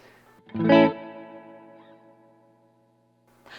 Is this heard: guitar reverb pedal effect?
yes